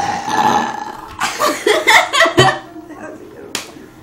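A loud, gurgling burp rolls out close by, followed by slaps and laughter as people talk around it.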